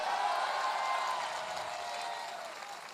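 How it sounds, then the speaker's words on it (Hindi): Audience applause fills a speech event hall, a steady wash of clapping from a crowd that stays fairly even and gradually thins toward the end. "ताली तो जबरदस्त बजनी चाहिए इस संस्था के लिए"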